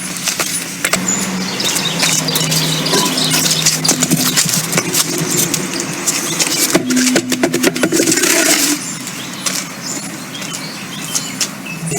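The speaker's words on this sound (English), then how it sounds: "you can do this with a normal 4-way lug wrench, or you can use an impact like I'm going to" An impact wrench takes 21 mm lug nuts off a car wheel, making close, loud bursts of rattling hammering and whirring, with brief pauses and metallic clinks between runs.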